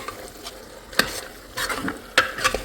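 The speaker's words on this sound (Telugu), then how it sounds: "సో దీన్ని ఇంకా మంచిగా మిక్స్ చేసుకోవాలి ఇలాగా కింద ఉన్న మన ఆనియన్స్ అంతా ఇలా కలిసిపోయేలాగా మిక్స్ చేసేసుకున్నాం" Mutton curry with onions being stirred in a pot, a soft sizzle under repeated scraping strokes of a spoon, several sharp clicks against the pot, close and clear.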